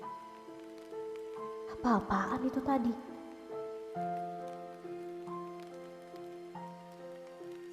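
Steady rain falls at a lonely bus stop, a soft continuous patter beneath sustained musical tones, with a brief spoken line partway through.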